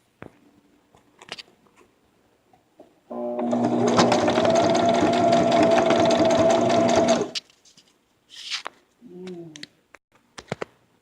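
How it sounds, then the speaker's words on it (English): A sewing machine whirs in one steady run of about four seconds, stitching forward and backward on a fabric baby bib, framed by scattered small clicks and handling noises before and after. "bring your sewing machine forward and then backwards a couple times"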